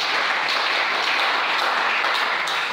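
A church congregation claps steadily to acclaim the Lord, a dense, even wash of applause from many hands with no voices on top.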